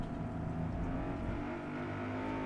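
BMW car engine racing in Forza Motorsport, a steady sustained roar under load with no breaks.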